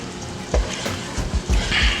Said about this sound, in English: the butter's melted here, and you can see it bubbling up here